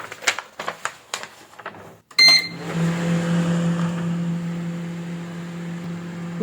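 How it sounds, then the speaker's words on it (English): A microwave oven being repair-tested switches on after a few clicks, then settles into a steady loud mains hum with a fan whir that continues unbroken to the end. "Now I will turn on microwave oven."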